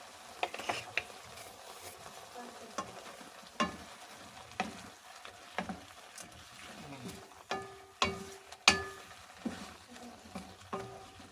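Spicy cheesy shrimp is stirred in a pan, giving a quiet background sizzle broken by a series of sharp, irregular utensil scrapes and clicks every second or so.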